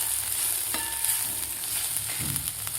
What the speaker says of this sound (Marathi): आता व्यवस्थित आपल्याला हे मिक्स करून घ्यायचं आहे शेंगामध्ये